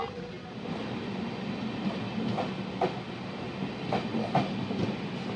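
A passenger express train, the Farakka Express, rumbles past nearby with a steady roar, wheels clacking rhythmically over rail joints throughout.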